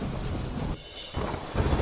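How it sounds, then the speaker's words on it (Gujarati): A thunderstorm over Delhi brings a downpour with strong wind: a loud, broad roar of rain and rumbling that briefly drops away midway, then surges back up. "ભારે પવન સાથે ધોધમાર વરસાદ થતા ઠેર ઠેર પાણી ભરાયા"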